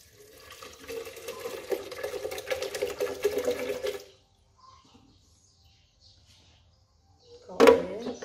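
Water is poured into a cooking pot while making a tofu and palm sugar dessert, a continuous splashing pour for about four seconds, then near silence before a brief final splash.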